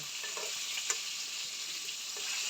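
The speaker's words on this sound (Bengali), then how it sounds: "মাছগুলা ভালো করে ভেজে নিচ্ছি," Mahashol fish fry in oil in a pan, giving a close, constant crackling sizzle with no break and no voices.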